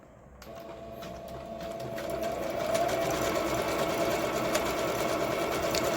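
A Jahuar CD2205 computerised sewing machine runs at a steady, fairly quiet hum with a rapid needle rattle, close by. It starts after a brief silence and builds slightly in speed and loudness, with no talking.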